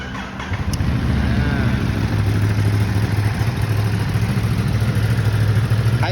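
A low-mileage Ducati Monster 937 demo motorcycle fires up and settles into a steady, loud, close-up idle with a deep, even engine rumble.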